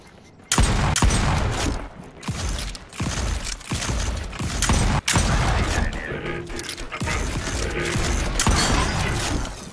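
Repeated heavy shotgun blasts from a double-barreled shotgun in the game Volcanoids, loud and close, arriving in uneven bursts among mechanical clanks and rumble, with no talk.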